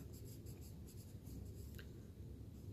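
A pencil scratches steadily across a linoleum block while tracing over drawn lines, a soft continuous rasping close to the listener with no talking.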